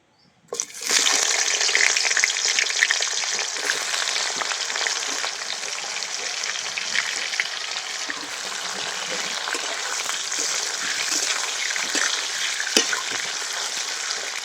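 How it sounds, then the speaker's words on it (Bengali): Eggplant frying in hot oil for shukto: a loud, close, continuous hiss and crackle that starts abruptly and holds steady throughout, with an occasional sharper pop. "এবার আমি বেগুনটা খুব ভালো করে ভেজে নেব।"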